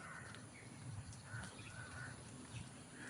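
Crow-like caws from birds outdoors, a few faint, distant calls spread over a quiet background.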